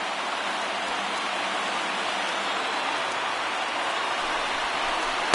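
A baseball stadium crowd of over 31,000 at a Blue Jays game roars steadily on its feet, a broad, unbroken wash of cheering noise at constant loudness.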